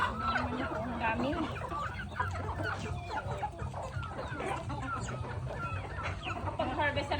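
Hens on a farm cluck steadily and overlap one another while eggs are gathered. Low background noise runs underneath throughout, and no one talks.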